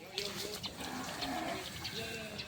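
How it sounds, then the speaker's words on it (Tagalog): Goats and other farm animals, including breeding does and young goats, bleat and call in a busy outdoor yard on a cattle farm, with people talking nearby throughout. "Ang dami rin mga kambing ni Kuya Eddie dito, mga alaga."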